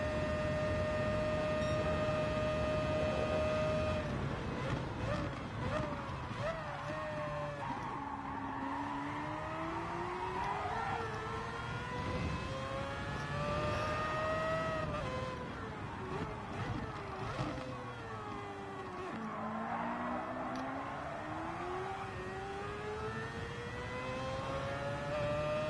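A race car engine in Gran Turismo 7, on the Daytona Road Course, revs hard with rising and falling pitch through gear changes and a brief tire squeal, loud and continuous, with a voice speaking over it.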